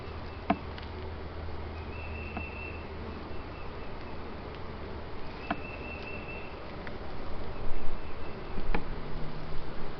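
A steady low insect hum of many honeybees at an open hive fills the background, with occasional close fly-bys and faint handling clicks during a hive inspection, a touch louder near the end.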